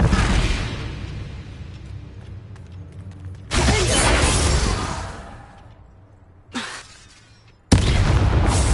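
Bombarda spell blasts in the Hogwarts Legacy video game, loud booming, shattering bursts that come in several separate waves with debris-like crackle, alone without talk.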